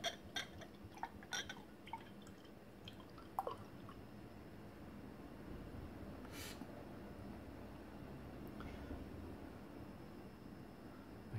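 Beer poured from a keg into a glass, a quiet, continuous liquid flow with a few soft drips and clicks at the start, heard close up without any talking.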